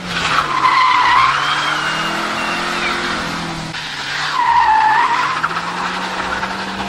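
A 1998–2005 Mazda MX-5 NB with a 1.9 16-valve engine drifts, its tires squealing loudly in two long wavering screeches over a steady engine drone, with a brief lull between them.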